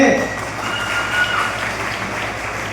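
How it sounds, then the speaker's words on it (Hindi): Audience applause at a public talk in Sitapur, a loud, continuous wash of many hands clapping, with some crowd noise mixed in. "तालियां, हम आगे बढ़ते हैं।"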